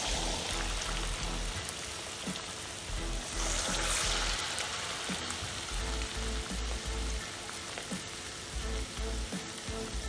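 Plantain paste for Ghanaian kaakle fritters frying in hot oil, a steady, dense crackling sizzle with scattered pops, close and even throughout, heard alone without talk.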